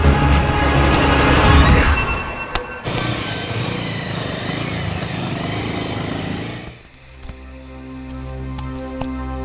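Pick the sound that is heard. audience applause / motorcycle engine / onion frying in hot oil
motorcycle engine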